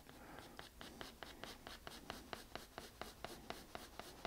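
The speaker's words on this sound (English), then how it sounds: "I practice something called cross-hatching." Pencil cross-hatching on paper while sketching a husky: steady, evenly spaced scratchy strokes, about three per second, close and quiet, with no talking.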